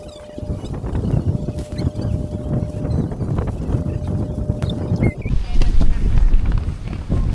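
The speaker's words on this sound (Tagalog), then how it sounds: "Time check 5:04 at ganun pa rin, malakas pa rin hangin." Strong wind buffeting the microphone in a steady low rumble, with voices talking underneath throughout.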